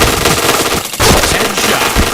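Sustained automatic gunfire from a shooter video game rattles loud and close in a rapid, continuous stream across the whole clip.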